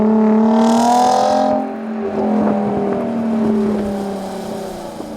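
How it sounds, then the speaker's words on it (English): Supercharged 3-litre V6 TFSI engine in a 2013 Audi A7, revving with a rising then easing tone, layered harmonic drone with a brief hiss early on, close and fairly loud before settling to a steady idle. "So this is the 3-liter V6 TFSI with supercharger, and it makes around 310 horsepower and 325 feet-pound of torque."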